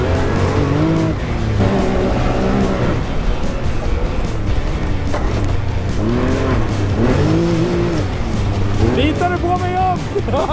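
A turbocharged car races hard on a track or course in Avesta, the engine revving and tires squealing up close, while excited voices shout over it almost continuously.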